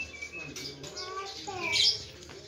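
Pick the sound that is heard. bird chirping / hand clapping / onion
bird chirping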